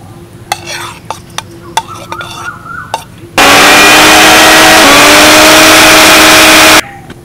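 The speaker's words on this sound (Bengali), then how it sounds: "এবার এই চিংড়িগুলোকে আমি পেস্ট করে নেবো, তার জন্য একটা মিক্সি জার নিয়েছি।" After a few clicks and clatters of setup, a mixer grinder jar blending shrimp into paste roars into a loud, steady high whirring whine that runs for about three and a half seconds, then cuts off abruptly.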